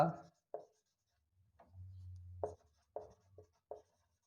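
Chalk or marker writing on a classroom board during a lesson, short scratchy strokes spaced out and fairly faint, with a teacher's voice speaking in between.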